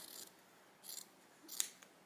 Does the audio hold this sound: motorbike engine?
no